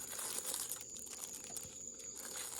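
A plastic bag crinkles and rustles steadily as it is handled while unboxing a product, close and soft, with no talking.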